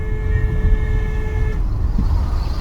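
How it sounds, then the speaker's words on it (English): A steady car horn blares for about a second and a half over rumbling traffic noise, then cuts off, leaving the engine drone. "I just honked at her"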